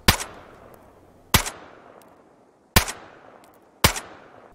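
A suppressed M4 assault rifle fires in the video game DayZ: four sharp, loud single shots spaced roughly a second apart, each with a short decaying tail.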